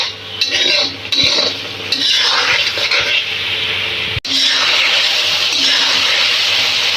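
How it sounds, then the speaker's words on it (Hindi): Potatoes frying in onion paste in a karahi, a dense steady hiss of hot oil with scraping and clinking as they are stirred, one sharp knock midway. "आलू हमारे अच्छी तरह से फ्राई हो गए हैं।"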